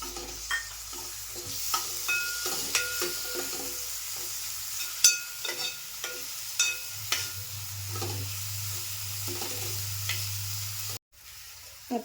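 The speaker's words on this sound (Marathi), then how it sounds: "तो सुद्धा टाकते फोडणीमध्ये." Finely chopped tomato added to hot tempering with onion and masala for Konkani masale bhat, a steady low sizzle broken by repeated close spoon scrapes, ending in a sudden brief cut.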